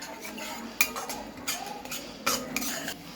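A spoon stirs leftover roti being tempered with turmeric, red chilli powder and coriander-cumin powder in a pan, giving several soft scraping clinks and knocks spread over a few seconds.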